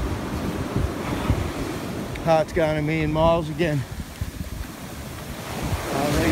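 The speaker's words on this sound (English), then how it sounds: "These waves are just smashing in here, up to your knees." Ocean surf on a black-sand Australian beach, waves surging up to knee height, heard as a steady rushing wash with wind noise on the microphone, someone talking over it in the middle.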